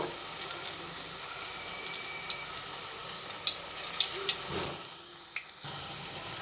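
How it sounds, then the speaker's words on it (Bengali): Pakoras sizzle steadily in hot oil for an evening tea snack, a continuous crackling hiss with sharp pops scattered throughout, briefly dipping quieter near the end before resuming. "সবকটাই দিয়ে দেওয়ার পরে একটা দিক কিছুক্ষণ ভাজা হবে"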